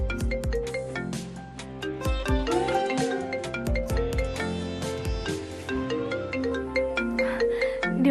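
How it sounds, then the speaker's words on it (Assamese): A mobile phone ringtone plays a bright melodic tune continuously and fairly loud, with no voices over it. "ফোন বাজিছে"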